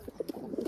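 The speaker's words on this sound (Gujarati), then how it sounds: "કબૂતર જેવું છે કંઈક" A pigeon gives a brief run of soft, low coos in quick succession, faint and close, with no talk.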